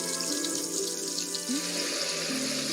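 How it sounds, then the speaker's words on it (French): Water running gently over a baby's cheeks during a bath, a soft continuous trickle and splash close by, steady and quiet throughout with no talk. "C'est l'eau qui te caresse tes joues."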